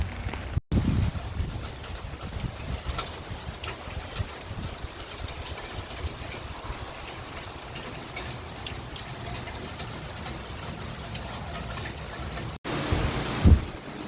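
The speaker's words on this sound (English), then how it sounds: "This is what happens when we get torrential rain during a hurricane." Torrential hurricane rain pours into a flooded backyard where water runs like a river, a dense continuous roaring wash with a steady rumble and no talking.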